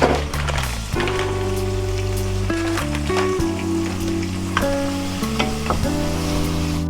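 Onion and pepper fry in a pan, giving a steady crackling sizzle with scattered pops, while a musical soundtrack of held tones plays over it.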